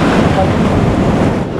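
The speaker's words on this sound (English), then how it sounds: "Grabe ang lakas ng current ng waves, oh." Ocean waves and surf rolling in at Siargao in the Philippines, a steady broadband wash with wind buffeting the microphone, loud and close throughout.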